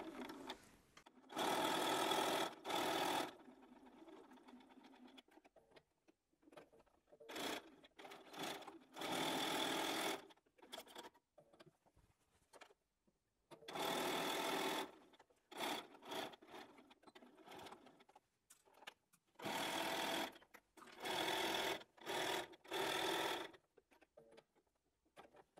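A sewing machine stitches fabric for a book cover, running in short loud bursts with quiet gaps between them, including brief reverse stitching. The sound is close and clear, and no one talks.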